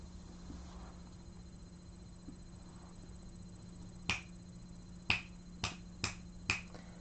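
Five sharp finger snaps sound one after another over a low steady hum in a quiet indoor room, made to check whether a pregnant rescue cat named Lily can hear; the snaps are crisp and moderately close, with no talking.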